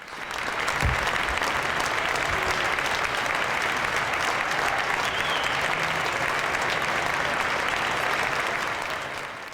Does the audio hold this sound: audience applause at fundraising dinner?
yes